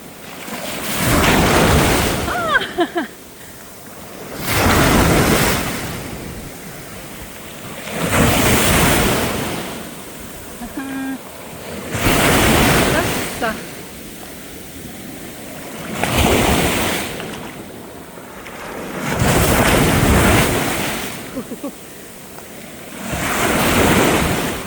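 Sea waves roll in and crash repeatedly at a slow, regular rhythm, loud and near, with wind rushing over the microphone between surges.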